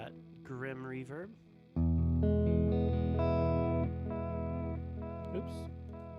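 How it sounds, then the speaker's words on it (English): Electric guitar through a reverb effect pedal, a short bent lick followed by a big sustained chord that swells and rings out with a long, washy tail, loud and close. "Add in some of that grim reverb."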